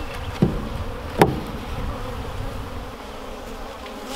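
Honey bees being handled at a home hive give off a steady buzzing drone that holds through the clip, with two brief sharp knocks near the start.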